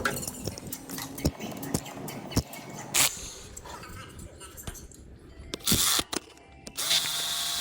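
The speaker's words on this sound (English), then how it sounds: "Now we're going to loosen this tensioner up, get that thing out of the way" Work on the timing belt tensioner of a 2012 Subaru Legacy, with close metallic clicks and taps from hand tools, a few short ratcheting or power-tool bursts, and someone talking over the work.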